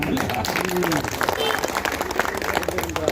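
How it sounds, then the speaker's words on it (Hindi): An outdoor crowd at a colony development ceremony claps for the road engineer, brisk scattered clapping mixed with chatter and voices speaking over it. "ताली वाली बजा दो।"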